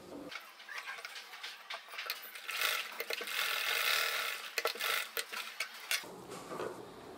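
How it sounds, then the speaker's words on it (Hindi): A sewing machine stitches elastic onto bra fabric in a close, steady whirring run, with soft mechanical clatter and a few brief pauses. "ये दोनों कॉर्नर पकड़ते हुए इस तरीके से इस पे सिलाई लगा दीजिए।"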